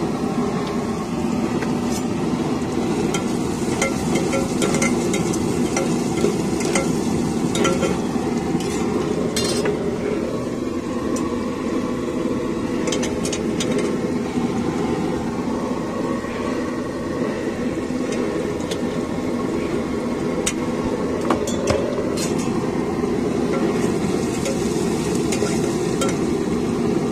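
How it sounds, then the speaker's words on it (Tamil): Onions with salt sautéing in a pan, a steady dense sizzle running throughout with occasional scrapes and clinks of a utensil against the metal, close and fairly loud, no talking. "வெங்காயம் நல்லா வதங்கட்டும்"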